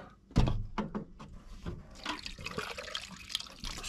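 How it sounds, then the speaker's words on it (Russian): Water is poured into a car's heater radiator while it is flushed, with a sharp splash at first, then steady gurgling and trickling close by. "Сейчас печку залью водички"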